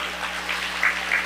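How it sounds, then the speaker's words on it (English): Applause from a gala audience celebrating Black excellence, a short steady patter of clapping at moderate level with a few louder bursts near the end. "Give yourselves a round of applause."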